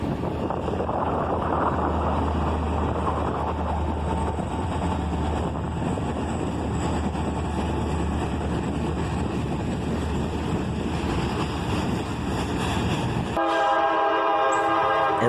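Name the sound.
Norfolk Southern train passing, horn sounding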